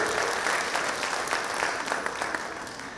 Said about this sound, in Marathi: तुम्हीच तुमच्यासाठी कडकडून टाळ्या दिल्या पाहिजे